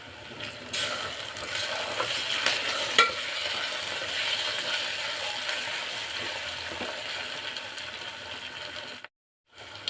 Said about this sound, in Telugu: అలాగే అల్లం వెల్లుల్లి పేస్ట్ కూడా వేసి ఫ్రై చేసేసాను.